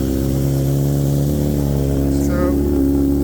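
BMW M1000XR motorcycle fitted with Akrapovic titanium headers, the warm engine running steadily close by with a loud, even tone that lifts slightly in pitch near the end.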